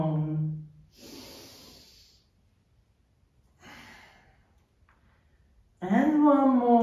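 Two breathy, hissing exhales during a yoga mobility session for tight hips and spine, fairly close and soft, with an instructor speaking before and after.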